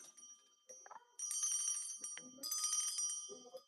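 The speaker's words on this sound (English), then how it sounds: "Just a regular little brass bell." A small brass craft bell rings in quick jingling bursts, two longer shaking rounds with bright sustained tones, interspersed with brief faint bits of voice and handling.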